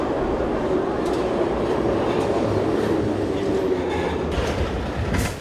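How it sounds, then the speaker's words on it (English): A Kharkiv subway train running through the metro, a loud continuous rumble with rhythmic wheel clatter on the rails and faint squeals, close and steady throughout. "the Kharkiv subway resumed service on Tuesday"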